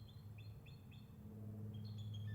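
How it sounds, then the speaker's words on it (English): Young bald eagles give a series of thin, high chirping calls, faint and somewhat distant, over a steady low engine hum from a Jeep Cherokee. "a couple little young bald eagles."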